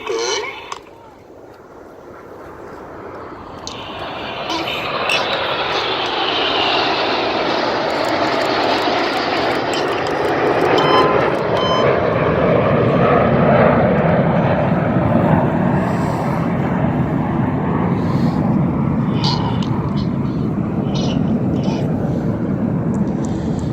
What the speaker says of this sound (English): here come the rest of the aircraft